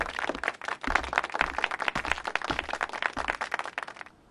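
An audience claps to welcome the judges onto the stage at a school competition, steady moderate applause with crisp individual claps that fades out at the end.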